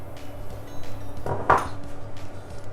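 A spoon knocks and scrapes against a pot while cream is stirred into milk, one sharp clink standing out over a soft continuous stirring rumble, close and fairly quiet.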